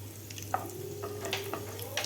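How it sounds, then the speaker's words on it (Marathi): Asafoetida being stirred into raw mango curry (kairicha sar) in a pan, soft scraping and liquid swishing with small clinks, quiet and close over a steady low hum. "आपल्याला व्यवस्थित हलवून घ्यायचं आहे"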